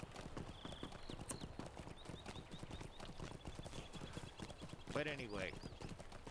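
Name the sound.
horse hooves clip-clopping during a horse ride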